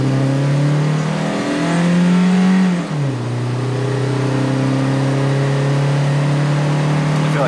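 Car with a stock Toyota 4A-C engine accelerating hard, its loud steady engine drone climbing in pitch, dipping briefly at a gear change, then climbing again, close up inside the cabin.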